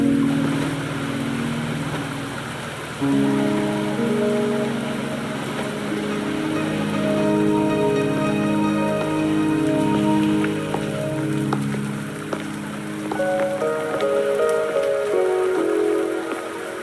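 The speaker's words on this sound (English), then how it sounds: "Are you trapped here by the rain?" Rain falls steadily in the video game Wuthering Waves, a soft, continuous patter on surfaces, heard alone under sustained tonal game music for the whole stretch.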